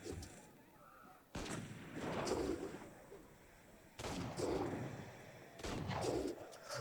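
Gunfire in the co-op video game Assassin's Creed Unity: faint, muffled booming bursts come in clusters with pauses between, and a player's voice is heard under them.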